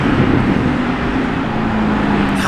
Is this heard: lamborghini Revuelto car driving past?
yes